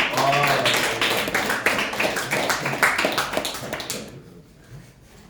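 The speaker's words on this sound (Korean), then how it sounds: "아무 이유 없이 박수 한 번만 해줄래?" A classroom of students claps together, a burst of many quick overlapping hand claps that runs for several seconds, then cuts off abruptly into near silence.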